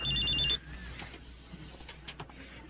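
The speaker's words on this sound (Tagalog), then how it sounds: "May tumatawag sa'yo." A mobile phone rings with an incoming call, a short electronic ringtone sounding for about half a second before cutting off, followed by quiet room background.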